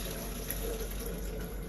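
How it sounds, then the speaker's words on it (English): Fresh fruit juice with lemons pours continuously from a container into a blender. The liquid stream gives a steady, close splashing rush that lasts the whole moment, with no voices. "I take this and I pour it off into my blender"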